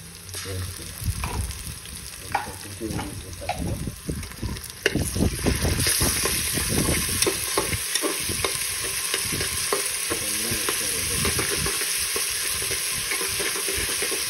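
Oil sizzling and spattering in a pan as ginger-garlic paste goes in while frying for biryani, a loud steady hiss close by with scattered pops and some stirring scrapes early on.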